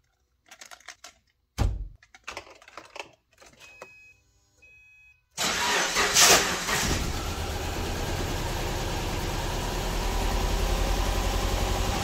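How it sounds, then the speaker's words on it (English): A Subaru Impreza cranks and fires after a few clicks and rattles, then settles into a loud, steady idle close by with a continuous low hum and a slight rise later on. "Let's fire this car up."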